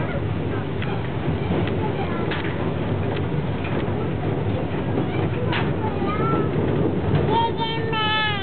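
A small tourist train rumbles along steadily with faint clattering and occasional squeals, heard from on board, while people talk and birds chirp in the background.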